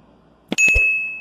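A notification bell sound effect plays once: a short cluster of clicks, then a single bright ding that rings out and fades slowly.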